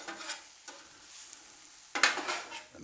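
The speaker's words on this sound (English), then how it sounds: "I bring my onions and peppers back over here" Onions and peppers being mixed into cheesesteak meat on a Blackstone griddle, with soft sizzling and a few quick spatula scrapes in short bursts, fairly quiet and close, with no talking.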